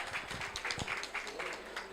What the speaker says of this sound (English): just a big round of applause for our panel